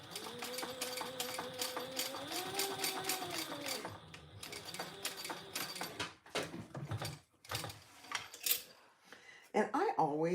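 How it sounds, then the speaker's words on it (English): A sewing machine stitches fabric in a rapid, steady mechanical whir that runs for several seconds, then gives way to handling noises and short bursts, with a voice talking over part of it. "let's sew that together"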